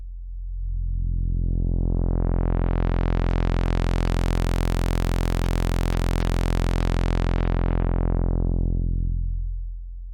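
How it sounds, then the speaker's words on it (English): One oscillator of a Behringer Model D synthesizer, held as a steady drone while the filter cutoff sweeps fully open and then closed, brightening from a dull low hum to a buzzy, harsh tone and darkening again. "we're gonna go back to one oscillator and we're gonna do some filter sweeps"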